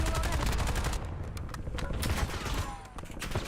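Rapid gunfire in Warzone, a dense sustained volley of sharp repeated shots with distinct cracks throughout, loud and close over game sound, with some speech mixed in.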